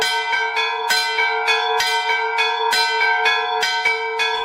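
Church bells ring loudly and steadily for a village feast day in Mosorivka, struck in a regular rhythm with overlapping, resonant peals and no voices.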